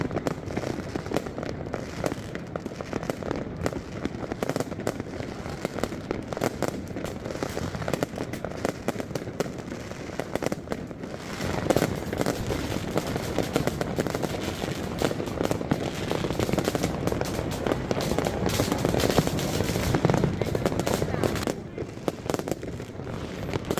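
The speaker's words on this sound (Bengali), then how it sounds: "1 থেকে 3 পর্যন্ত কাউন্ট করার সাথে সাথে ওখানকার ফায়ার ওয়ার্কস শুরু" Dense New Year fireworks in Romania at midnight for 2025: continuous crackling and popping bursts with repeated bangs, near and far, sustained for over twenty seconds, with faint voices underneath.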